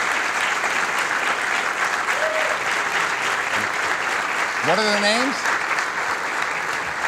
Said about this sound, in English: give a nice round of applause for them